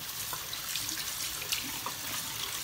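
Steady running tap water splashing as a Norwex mesh dish cloth is rinsed under it, a continuous close hiss and patter with no talking.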